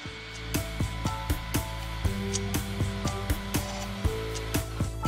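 A laser cutter cutting offset shapes hums steadily while its head moves in quick, rhythmic pulses, sounding as a regular series of close whirring ticks with no talk.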